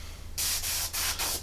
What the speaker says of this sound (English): bit of airbrush cleaner, just a little bit, just to see it spraying.